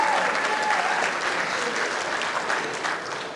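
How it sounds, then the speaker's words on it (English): An audience at an awards ceremony bursts into loud, sustained applause, a dense wash of clapping that fades slightly toward the end. "Let's give them another round of applause."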